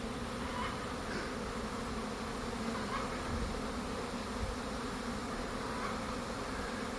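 A good-sized honeybee swarm arrives, a steady, dense buzzing hum filling the air throughout with no pauses and no voices.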